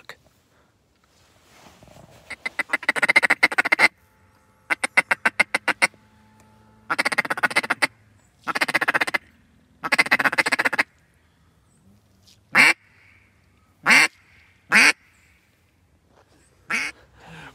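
Bursts of loud, rapid duck quacking at a duck blind in Kentucky, first long raspy runs of calls, then shorter separate quacks spaced a second or two apart against near silence.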